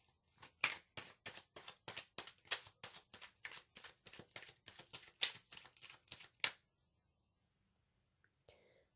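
Tarot cards are shuffled and drawn in a quiet room, a rapid regular run of crisp, close riffling snaps for about six seconds, then silence apart from a faint final tap.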